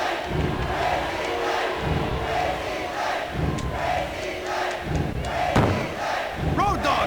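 Roaring arena crowd from the 1999 WWF Attitude wrestling game on Sega Dreamcast, a steady loud swell of cheering and yelling with scattered thuds, rising in bursts throughout.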